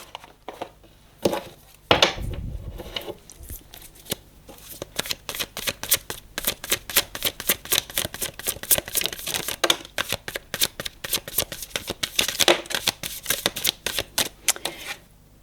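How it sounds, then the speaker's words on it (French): Two decks of cards shuffled together produce rapid, crisp riffling flutters, a few bursts followed by a long run of fast, regular card snaps, close and moderately loud without talk. "nous avons ensuite ces deux jeux que j'ai mélangés"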